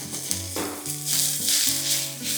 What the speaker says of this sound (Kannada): ಇದನ್ನು ಒಂದು ಸ್ವಲ್ಪ ಚೆನ್ನಾಗಿ ಎಣ್ಣೆಯಲ್ಲಿ ಫ್ರೈ ಮಾಡ್ಕೊಳ್ಳೋಣ.